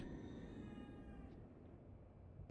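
A cat meows in the video game The Evil Within 2, a faint, drawn-out cry set against steady game ambience and low rumble, with no talking.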